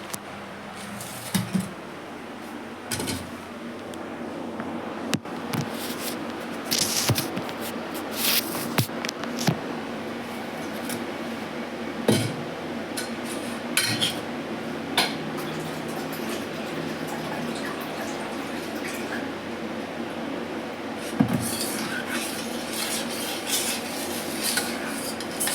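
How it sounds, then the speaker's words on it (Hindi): Utensils clink and scrape against a pan while yogurt raita is tempered at home alongside chole pulao, with steady metallic taps and stirring throughout, plus a faint background hum and no talking. "अब चलते हैं रायता को छौंकने के लिए।"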